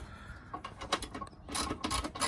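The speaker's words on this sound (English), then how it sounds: "Just snugging everything up to 18 foot-pounds of torque." Bolts are being snugged to 18 foot-pounds on a Polaris Ranger with a torque wrench, giving quiet, close ratcheting clicks in short bursts with a few rattles in between.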